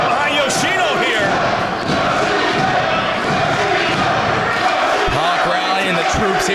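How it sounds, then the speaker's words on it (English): A crowd roars and cheers in a loud South Philadelphia pro wrestling arena, with broadcast commentary talking over the noise throughout. "listen to the crowd get behind Yoshino here"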